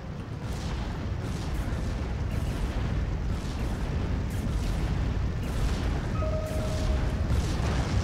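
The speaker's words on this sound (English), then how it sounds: "And we've got more Panzerwerfer fire coming in." Panzerwerfer rocket artillery in the strategy game Steel Division 2, a dense, continuous rumble of rocket launches and explosions with repeated booms and a brief whistling tone near the end, no speech over it.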